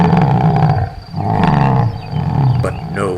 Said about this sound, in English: Deeply he drank then, lashed his quivering flanks, and roared again,